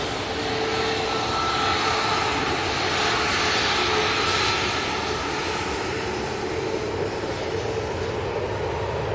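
A Ryanair airliner coming in to land at Manchester Airport gives off a steady, moderately loud engine roar that builds gently mid-way and holds throughout, with no voices.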